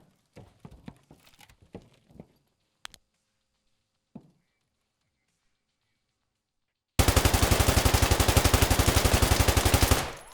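Mk47 Mutant rifle in a video game firing one long sustained spray of rapid, evenly spaced shots, loud and close, after a few scattered quieter clicks and thuds.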